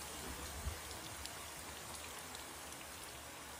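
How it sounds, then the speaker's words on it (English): Heavy rain from a severe thunderstorm over New York City, a steady faint hiss of falling drops with one brief low thump early on. "Violent storms ripped through the Big Apple on Tuesday and dumped as much as 4 inches of rain in a matter of hours"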